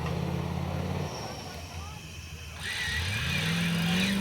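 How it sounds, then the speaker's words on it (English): A fuel-injected Holden 308 V8 in a 4WD competition truck revs up and down, its pitch dropping and then climbing again as the motor roars, loud and close. "It's sounding great too with its fuel-injected 308 Holden motor."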